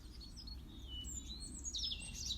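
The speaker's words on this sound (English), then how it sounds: "play some bird music under it, which I've just done" Recorded birdsong plays softly over a low background hum, with thin high chirps and twittering phrases that grow busier toward the end.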